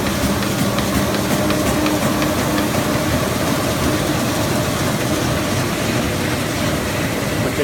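A Ryobi 924-D four-color offset printing press with aqueous coater runs at a steady, loud mechanical drone with dense rhythmic clatter, continuous and close, with no talk.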